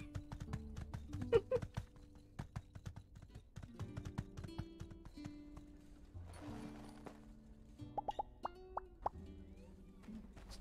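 Horse hooves clip-clop in the video game My Time at Sandrock: quick, light, irregular hoof plops with soft game ambience and faint musical tones, and no talking.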